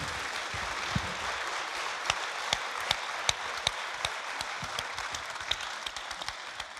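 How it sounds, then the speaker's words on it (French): An audience applauds after a talk on chronic pain, a moderate, fairly distant patter of many hands clapping steadily, with a few sharper individual claps standing out. "on vous applaudit"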